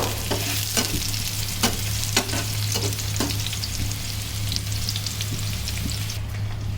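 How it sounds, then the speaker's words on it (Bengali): Onion and garlic fry in a pan as a tempering for lentils, giving a steady close sizzle broken by several sharp scraping stirs. No one speaks. "এখানে পেঁয়াজ ভাজা হচ্ছে পেঁয়াজটা ভেজে নেব একটু আর এই পাশে ডাল বাগারের জন্য পেঁয়াজ রসুন ভাজা হচ্ছে"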